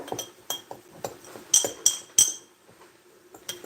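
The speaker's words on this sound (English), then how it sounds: "I'm just gonna give this a good stir" A spoon stirs a homemade seasoning mix of dried herbs including thyme in a small glass container, giving sharp clinks and taps in an irregular rhythm, loud and close with no talk.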